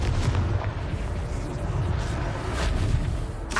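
Confringo blasting-spell explosions in Hogwarts Legacy combat, a dense, continuous roar of booming blasts and bursts that stays loud throughout.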